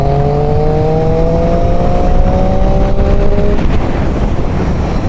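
Triumph Street Triple 675 motorcycle engine pulling hard in fourth gear during an overtake, a loud sustained rising engine note under heavy wind rush, the pitch climbing steadily before fading into roar.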